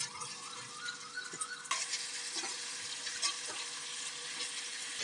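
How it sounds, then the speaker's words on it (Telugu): Green peas, chopped potatoes, onions, green chillies and mint leaves go into a hot pot with a sudden burst of sizzling, then a steady, fairly soft frying hiss with light stirring. "బఠానీలు, ఇప్పుడు తరిగి పెడుతున్న ఆలుగడ్డలు, ఉల్లిపాయలు, పచ్చిమిరపకాయలు, పుదీనా ఆకు అన్నీ వేసేద్దాం."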